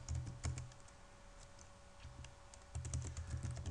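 Someone types a password on a computer keyboard during a Linux software installation, producing quiet bursts of rapid keystrokes separated by a brief pause, over a faint steady hum.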